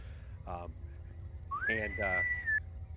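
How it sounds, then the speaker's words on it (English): A single rising electronic whistle sounds aboard a starship as a ship-wide announcement begins, sliding up and holding for about a second, with voices speaking around it in a Star Trek tabletop role-play session. "There's a whistle that happens every time that happens"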